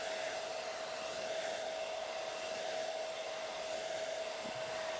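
Handheld hair dryer blowing air over the top section of a man's short undercut hairstyle, a loud steady whirring roar with a constant motor whine, close up and uninterrupted, no talking.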